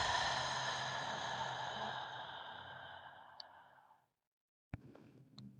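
A long, slow, audible exhale through the mouth during a guided breathing exercise fades out over about four seconds, followed by silence and a faint click and breath.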